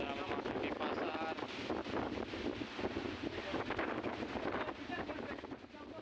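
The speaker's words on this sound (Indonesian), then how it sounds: "Angin kencang dan gelombang tinggi menerjang kota Bau-Bau, Sulawesi Tenggara." Strong wind and high waves batter the coastal market area of Bau-Bau in Southeast Sulawesi, a continuous loud roar and rush of gusting air and surf with heavy wind buffeting on the microphone.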